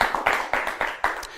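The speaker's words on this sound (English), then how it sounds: "Give David a big round of applause" An audience at a live lecture claps for a volunteer named David, brief, with sharp, evenly spaced claps standing out in a steady rhythm.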